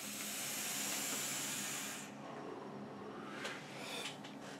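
A hiss of a vape hit drawn through a copper parallel box mod, a close airy rush lasting about two seconds before it fades to quieter room noise.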